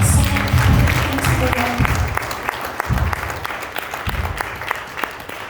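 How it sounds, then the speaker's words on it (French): A church congregation at a special worship service applauds loudly and cheers for the Lord, sustained clapping close and full, with voices calling out through it. "Est-ce que quelqu'un peut acclamer très fort le Seigneur?"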